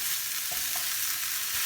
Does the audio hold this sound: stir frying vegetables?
yes